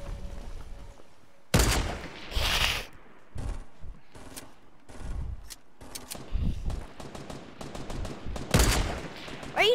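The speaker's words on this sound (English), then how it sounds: "Someone was shooting me." Gunfire in the Fortnite video game comes in loud, sharp bursts and single shots at irregular intervals, with quieter gaps between volleys.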